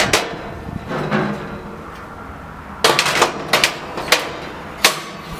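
Metal parts of a Saber Cast 500 gas grill, such as grates and burner covers, are set back in place with a series of sharp clanks and knocks, scattered and close, with no talk.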